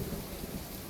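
Steady rainfall with a low thunderstorm rumble underneath, a brief, dense burst of weather noise with no voices.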